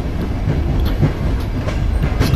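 Rumbling train interior from the No One Lives Forever game, a steady low rolling drone with faint rhythmic clatter running continuously and fairly loud throughout.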